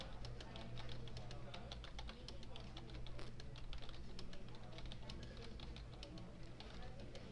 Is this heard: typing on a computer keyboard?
yes